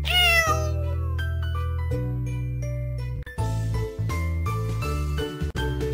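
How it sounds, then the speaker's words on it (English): A cartoonish cat meows over a bright, tinkling electronic melody in a children's animal learning puzzle game, loud and clear. "Cat."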